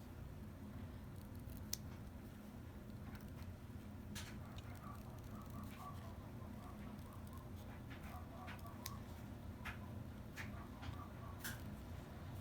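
Scissors make soft, scattered snips as they cut ribbon for a handmade hair bow. The close, faint clicks sit over a low, steady background hum, with no talking.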